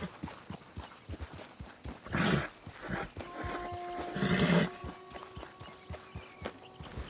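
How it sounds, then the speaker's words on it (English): Horse in the video game Red Dead Redemption 2 clip-clopping at a steady beat, with two louder bursts of movement and a faint tonal hum behind, no talking. "I'll just jump the horse up to this walkway."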